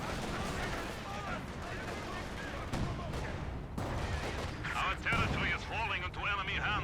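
In Company of Heroes 2, a KV1 tank's main gun fires amid distant battle gunfire: faint booms and crackling bursts run under continuous commentary.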